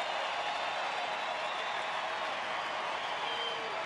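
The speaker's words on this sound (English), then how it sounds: "A lot of them on their feet, all of them putting their hands together." A baseball crowd at Rangers Ballpark in Arlington, during a 2013 game between Cincinnati and Texas, gives sustained, even applause with a broad crowd roar and no distinct peaks.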